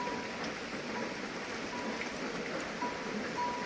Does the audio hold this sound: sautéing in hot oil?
no